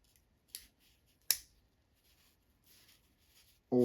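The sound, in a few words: unfolding saw blade of True SP18k multitool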